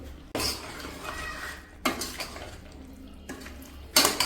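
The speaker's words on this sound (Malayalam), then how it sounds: "ഒരു 1/2 കപ്പ് തൈര് ഇതിൻ്റെ അകത്തേക്ക് ചേർത്ത് കൊടുക്കുക" Yogurt, about half a cup, spooned into a pot of vegetable biryani base and stirred, giving near, intermittent metal spoon scrapes and clinks against the pot, with a sharp clatter near the end.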